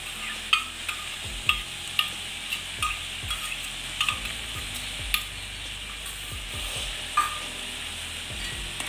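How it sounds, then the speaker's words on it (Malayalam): A tomato curry with ground coconut, cumin and mustard sizzles and bubbles steadily in a pan on the stove, with a spoon clinking and stirring at irregular intervals, no voices. "നന്നായിട്ടൊന്ന് തിളച്ചേക്കാം"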